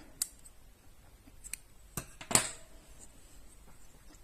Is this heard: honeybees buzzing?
no